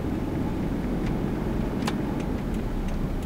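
A Toyota Fortuner rolls over a damaged road, giving a steady low cabin rumble of tyres and suspension with a few faint knocks and rattles, and no voices.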